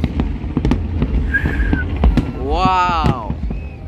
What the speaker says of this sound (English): 10 minutes plus of fireworks